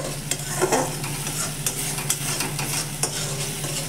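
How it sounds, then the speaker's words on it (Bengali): Spice masala fries in a pan, a constant sizzle crackling under repeated scraping strokes as it is stirred, close and steady with no voices. "তো চলো এটা মশলাটা আমি খানিকক্ষণ একটু কষিয়ে নিই"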